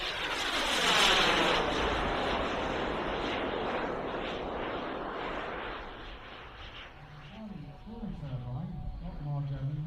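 A model aircraft, a P-Aerotow, passes right to left at an outdoor model air show, its engine droning loud and steady before fading away, while a commentator talks over it.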